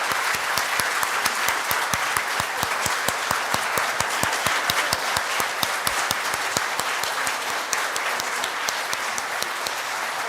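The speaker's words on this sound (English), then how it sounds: "If you could all stand for one last ovation." A church congregation rises for a standing ovation at a Father's Day music service, clapping loudly and steadily for several seconds as a dense, even wave of applause without voices.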